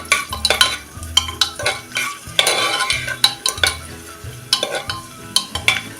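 Cashews and cloves sautéing in a pan for saffron coconut rice, a spoon scraping and clinking in a steady rhythm over a soft, constant sizzle.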